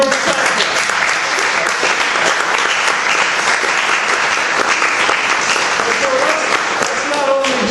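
Sustained applause from an open-mic audience for the Poets Laureate, dense steady clapping filling the room, loud and close, with some voices in the crowd.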